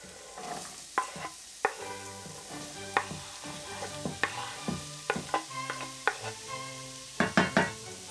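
Soffritto frying in hot olive oil in a pan makes a constant sizzle, broken by frequent clattering knocks and scrapes of a utensil stirring the mixture at an uneven pace.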